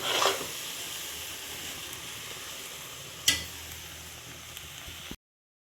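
Carrot halwa scooped from a pan, a steady soft sizzle and hiss with a spoon scrape at the start and a sharper clink midway, close and without talk.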